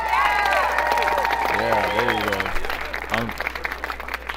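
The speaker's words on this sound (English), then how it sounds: "Let's hit some applause for that." An audience breaks into applause and scattered cheers, a close clapping wash that carries on under a man's brief remark and tapers toward the end.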